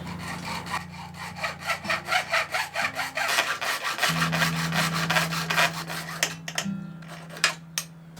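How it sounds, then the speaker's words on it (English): A hacksaw cuts through a rain barrel vessel in quick, rhythmic back-and-forth strokes, a rasping close-up sawing that pauses and then resumes, with no voices. "Just going to use this hacksaw here to cut it."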